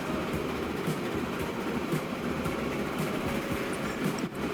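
A train rolling along the track in the simulation game Transport Fever 2, a steady rumbling drone with a faint rhythmic clatter, continuous and fairly loud, with no voices.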